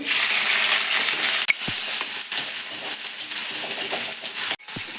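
Onions frying in hot oil with cumin seeds for a bhindi dish, a close, bright, steady sizzle broken by a couple of sharp knocks of a spoon against the pan, with no talking.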